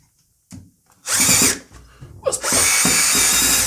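A power drill unscrews the top of a Hansgrohe Vernis Blend 200 thermostatic shower set: two loud whirring bursts, a short one and then a longer sustained run, with faint handling clicks in between.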